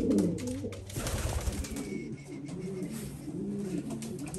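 A pigeon coos in soft, repeated throaty phrases close by, with faint background noise and no talking.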